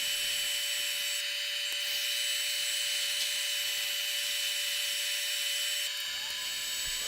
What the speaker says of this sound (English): I use the parting tool to cut off 4 rings